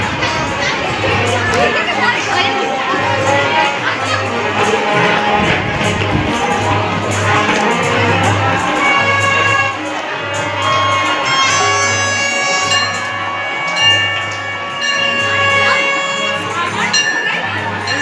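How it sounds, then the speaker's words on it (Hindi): A dense crowd at a Hindu temple on Shivratri murmurs, chatters and shouts continuously, with children's voices, taps and a repeating low rhythmic pulse running through, and bright ringing tones joining later. "गाइस बहुत भीड़ हो रही है।"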